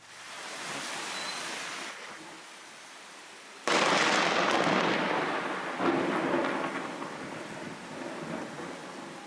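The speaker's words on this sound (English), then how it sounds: "there was a massive, massive thunderstorm" Thunder rumbling through a massive thunderstorm, recorded from a balcony in Colombia: a broad roar of noise that swells, surges sharply partway through, then rolls on loudly with no voices.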